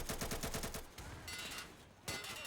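Rapid automatic gunfire from the tactical shooter video game Insurgency crackles in a fast, loud burst, breaks off briefly, then resumes with another close volley.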